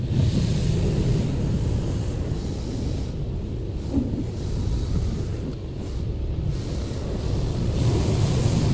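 A touchless car wash in Calgary sprays water over a car in freezing winter weather, a steady loud rushing hiss heard from inside the vehicle throughout.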